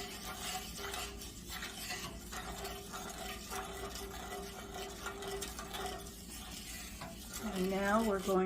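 A spoon stirring hot used cooking oil mixed with Fryaway in a pot, soft scraping and faint sizzle with light metallic clinks, quiet and steady, rising slightly at the end.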